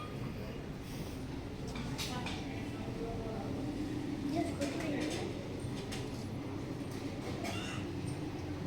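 A small food-delivery train runs along its track inside a restaurant, giving a steady, soft rolling rumble with faint rhythmic clicks, fairly quiet and steady, while indistinct voices murmur in the background.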